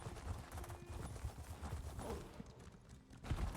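Horse hooves clip-clop in a steady rhythm during a horse race in The Elder Scrolls Online, moderately close, with faint game ambience around them.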